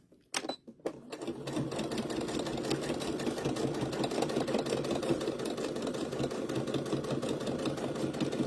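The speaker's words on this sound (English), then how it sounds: "I'm going right back across, and I'm going to top stitch the outside." A sewing machine top stitching around the outside edge of a baby bib runs steadily for several seconds after a couple of short starts, a loud, continuous close-up whir with a rapid needle rhythm.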